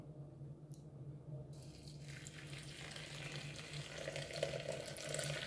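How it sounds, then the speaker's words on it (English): Hot water poured over green tea leaves for iced passion fruit green tea, a faint, steady hissing trickle over a low hum that swells slightly as the pour continues, with no talking. "I'm gonna pour some hot water over it."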